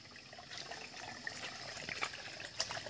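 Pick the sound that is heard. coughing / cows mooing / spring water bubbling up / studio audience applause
spring water bubbling up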